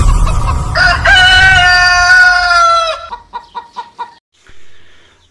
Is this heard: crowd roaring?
no